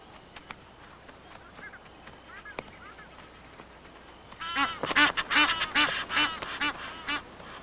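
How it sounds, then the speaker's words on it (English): A pair of Egyptian geese honk out in the open, starting with a few faint calls over quiet ambient background before breaking into a loud, close run of rapid, raspy honks that fade near the end. "The females are more interested in investigating a pair of Egyptian geese."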